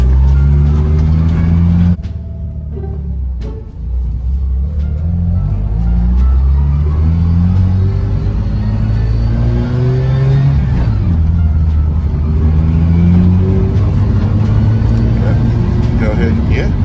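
Car engine close inside the cabin, dipping briefly and then climbing in pitch through several rises and falls as it gathers speed and changes gear, with people talking over it.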